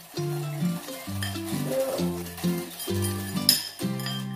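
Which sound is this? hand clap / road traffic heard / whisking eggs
whisking eggs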